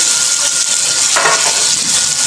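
Hot oil sizzles steadily in a pan as the chopped green chillies for a Maharashtrian mirchi thecha are stirred and turned, a loud continuous frying hiss with a brief burst of sharper crackle midway.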